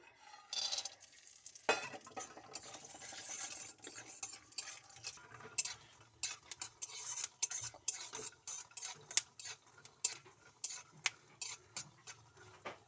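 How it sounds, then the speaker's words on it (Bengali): Peanuts stir-fried in a wok-style kadai, heard as a long run of close scraping and rattling stirs with sharp clicks of a utensil against the pan over a faint sizzle, with no talk. "এর জন্য প্রথমে বাদামগুলো ভেজে নেব।"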